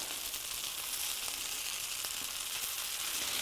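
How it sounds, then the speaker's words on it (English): Chopped cabbage and turnip added to a corned beef red flannel hash sizzle steadily in a wide pan, a constant close hiss of frying with faint stirring clicks and no talking. "I'm going to add my cabbage and my turnip now."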